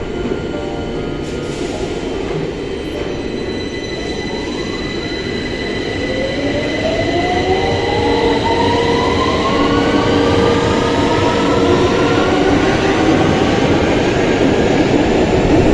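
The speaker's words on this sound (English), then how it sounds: "the 2009 train does feel like it accelerates faster" An S train from a Ubisoft video game pulls away from a platform and accelerates, motor whine climbing steadily in pitch over a rumbling, rattling wheel noise that grows louder, heard close without talk.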